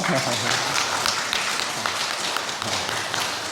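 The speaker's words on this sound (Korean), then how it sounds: "다 함께 일어나서 우리 박수 한번 칠까요?" Congregation at a Sunday morning church service claps together while standing, a dense continuous wash of many hands, loud and steady throughout with no pause.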